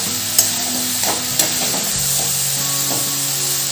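Twenty-one mixed vegetables for a Ganpati offering sauté in a pan over low heat. A spatula scrapes and clinks in a few sharp strokes over a steady soft sizzle, and no voices are heard.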